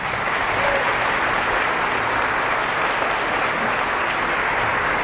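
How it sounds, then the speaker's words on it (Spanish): Sustained applause from an audience at a Catholic priest's debate event, dense and even clapping from many people filling the whole stretch. "Un aplauso para él"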